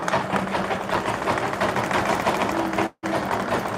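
Sewing machine stitching the edge of a bubu dress fabric: steady fast mechanical whirring, close and continuous, with a brief stop near the end before it resumes.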